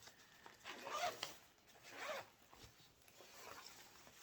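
A zipper on the back compartment of a tri-fold jewelry organizer is drawn open and shut in a few quick, soft rasping strokes, close and quiet with no talking.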